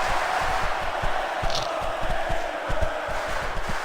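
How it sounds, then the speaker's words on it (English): Crowd noise from the wrestling video game SVR 2006: a steady, dense roar of an arena audience holding a constant loud wash throughout, with faint rhythmic thumps underneath. "I can't remember the last time I seen a crowd so pumped up."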